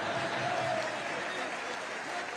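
A large audience of Indians gathered in Nigeria for a prime ministerial address applauds in a dense, continuous wash of clapping, fairly distant and steady throughout.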